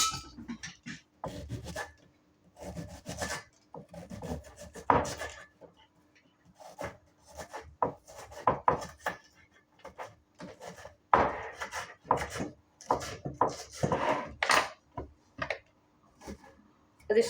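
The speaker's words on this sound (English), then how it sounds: "I'm just going to quickly chop this onion and then put the roots in there." A knife chops through an onion on a board in quick irregular bursts of sharp, close taps, with short pauses between runs of cuts.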